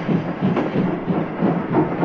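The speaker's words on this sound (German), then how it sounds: "Ich fahre mit der Eisenbahn viel schneller als ich gehen kann." A train runs along a railway with a rhythmic rumbling clatter, loud and close, in regular pulses under steady low noise.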